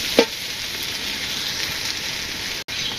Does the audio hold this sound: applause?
no